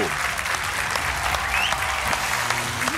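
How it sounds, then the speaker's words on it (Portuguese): A studio audience on a Portuguese quiz show applauds a returning champion, with steady, dense clapping sustained throughout and music running beneath it. "O vosso aplauso para o Rui Carvalho."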